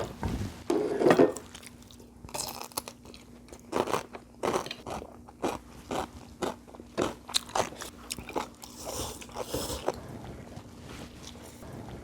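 Someone bites into altari (ponytail radish) kimchi during a Korean home meal, giving a series of loud, close crunches followed by wet chewing in uneven bursts.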